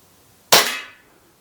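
A single sharp gas blowback shot from an Umarex Glock 17 airsoft pistol firing 0.20 g BBs, close and loud with a quick decaying tail, then quiet.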